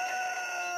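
A Xin Xin Dian laying hen, a Chinese breed that lays green eggs, gives a sustained, tonal clucking call held close and fairly loud for under a second, with no voices.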